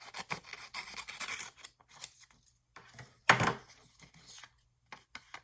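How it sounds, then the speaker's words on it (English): A single close, crisp snip of scissors cutting paper for a junk journal pocket insert, one sharp burst amid quiet handling rustles, with no talking. "Let me see if I can just snip this for a minute."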